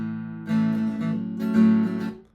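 An acoustic guitar riff in A picks out a short melodic phrase, notes ringing clearly and close, with no voices.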